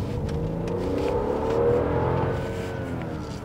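Tuned BMW 740Li with an N55 engine accelerating from inside the cabin, a steady, fairly loud engine drone with whirring tones that rise and then ease off, with no talking over it.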